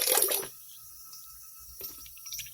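Water splashes and drips into an authentic Louis Vuitton bag being cleaned, a short wet burst at the start followed by quieter intermittent dribbles and drips, close by with no talk.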